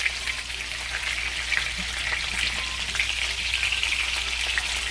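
Burger steak patties frying in a pan, giving a loud, close, continuous sizzle with crackling spits and pops throughout and no voices.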